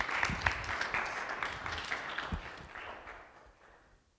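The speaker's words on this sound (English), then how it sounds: "Everybody, please give her a round of applause." An audience gives a round of applause after a volunteer helps on stage, a dense steady clatter of many hands that fades away toward the end.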